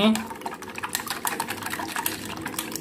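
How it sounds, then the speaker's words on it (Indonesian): A medicine mixture for a sick civet being briskly shaken and whisked in a bowl, giving a continuous wet sloshing and clinking texture, close and fairly loud. "Kalian kocok sampai tercampur merata"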